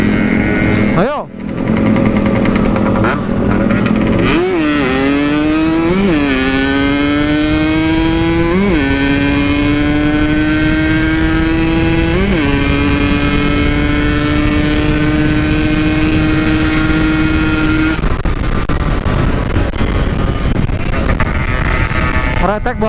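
Yamaha RX King two-stroke motorcycle ridden at night, its engine loud and close, revving up through several gears in rising sweeps before easing off, with a rider's voice now and then over the engine.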